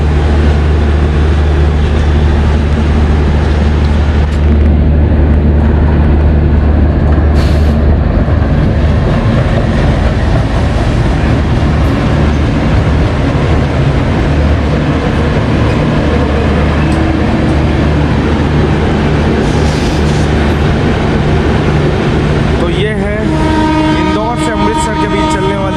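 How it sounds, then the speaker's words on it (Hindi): A train pulls into platform 2 at Mathura Junction station, with a loud continuous low rumble of rolling wagons and clatter close by. Speech-like sound from the platform is mixed in with the train. "ट्रेन के साथ प्लेटफॉर्म नंबर 2 पर मथुरा जंक्शन के पहुंच रही है।"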